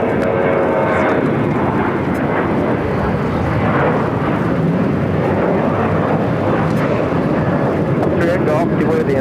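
A Cathay Pacific Boeing 777-300ER, flight 882 from Hong Kong, arrives at LAX with a loud, continuous roar of jet engines filling the air, broad and steady throughout, while a radio voice talks over it.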